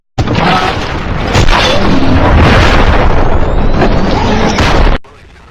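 A frag grenade detonates in Call of Duty Black Ops, one very loud, close blast that rumbles on for several seconds before cutting off abruptly into near silence.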